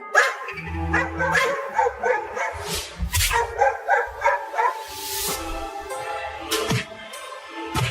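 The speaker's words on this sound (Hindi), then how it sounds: "वो कुत्ते उस लकड़ी के घर के सामने भौंक रहे हैं" Several dogs bark and yip in a cartoon scene in front of a wooden house, with repeated sharp barks and a few whimpering yelps, loud and close, with no one talking.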